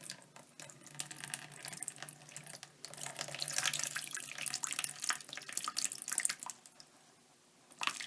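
Water splashes and runs over fabric treated with a silicone waterproofing coating, a steady close pouring and trickling with drips, alone without talk.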